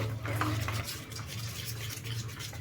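Masala paste for paneer tikka being mixed and beaten with a spoon in a bowl, giving a steady scraping, whisking rhythm with a low hum running underneath throughout.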